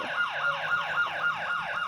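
Police car siren during a chase, a fast repeating wail that sweeps up and down in steady cycles, moderately loud and continuous throughout, heard alone without talk.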